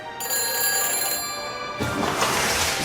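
A telephone rings steadily in the Back to the Future adventure game, a bright electronic bell tone with a clear harmonic stack that sounds continuously and loudly, turning brighter and noisier near the end, with no talking.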